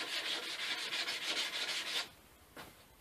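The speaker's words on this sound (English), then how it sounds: "let's do a little sanding before we start assembling the top" Light hand sanding of a wooden ant farm frame, quick rhythmic back-and-forth rasping strokes up close for about two seconds, then quiet with one last brief rub.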